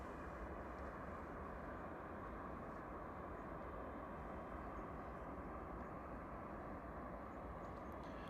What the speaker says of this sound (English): EI large touching down. Yeah, one of their A321 Neo LRs,